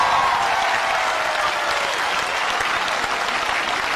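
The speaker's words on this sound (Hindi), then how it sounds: "आप अपने लिए एक बार जोर से तालियां बजा दीजिए।" Loud, dense audience clapping fills the whole stretch, a steady crowd-wide roar of hands at an awards event with no talking over it.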